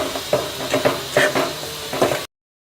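A spoon stirs a semolina mixture for rava burfi in a very hot kadai over low gas, giving a series of scraping strokes and soft knocks over a light sizzle, steady and close. The sound then cuts off abruptly into silence.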